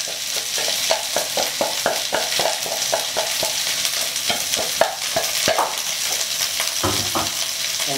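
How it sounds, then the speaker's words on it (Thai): Rice tossed with coconut milk and shrimp paste stir-fried in a wok over high heat: loud, close sizzling with a rapid rhythm of spatula scrapes and clacks, no voices. "เอาข้าวที่เราคลุกกะทิแล้วมาแล้วลงมาผัด"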